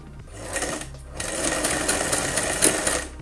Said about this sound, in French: je vais tout simplement l'engager dans la machine pour le coudre